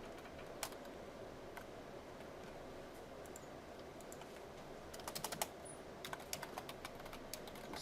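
Faint, sparse clicks of keys on a computer keyboard during a lecture, scattered taps at first then a quicker cluster of keystrokes, soft against a steady room hiss with no voices.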